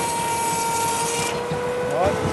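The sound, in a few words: Edwardian-style powered saw cutting timber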